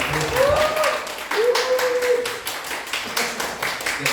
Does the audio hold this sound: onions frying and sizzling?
no